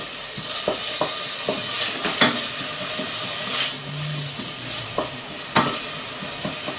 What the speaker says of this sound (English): I want to sweat it down a bit, but I don't want the onions to go